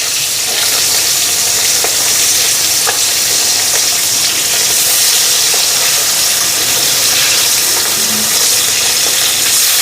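Fish fry in a pan while being turned over, a loud, dense, unbroken sizzle and crackle of hot oil with occasional small knocks, no talking.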